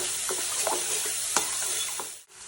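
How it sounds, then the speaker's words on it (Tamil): Vegetables and five eggs fry together in a pan for vegetable fried rice, with a dense, loud, continuous sizzle and a few spatula scrapes, close and without voices. "நல்லா ஃப்ரை ஆகுது"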